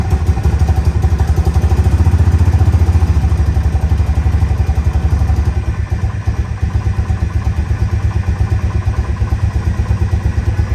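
A Banshee quad with a modified exhaust idles close by, a steady low, throbbing engine note with a slightly lumpy rhythm running continuously and loud.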